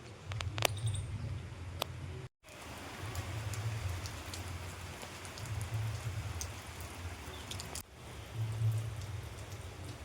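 Steady rain pattering and hissing on surfaces, with a few sharp drip clicks early and a couple of brief drop-outs.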